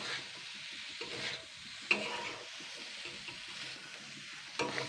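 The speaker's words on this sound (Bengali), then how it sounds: "চিড়েটা দিয়ে জাস্ট আমি 2-3 মিনিট ভেজে নেব, আবারও 2-3 মিনিট ভেজে নেব। এটা কিন্তু লো ফ্লেমেই করতে হবে।" Flattened rice (poha) frying over a low flame for chire pulao, stirred steadily; a soft continuous sizzle runs beneath light scraping strokes, with a sharper scrape near the start and another at the end, no voices.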